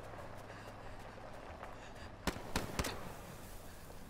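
Gunshots ring out in the video game INSIDE, fired at a fleeing boy: three sharp cracks in quick succession, standing out over a low, steady ambient hum.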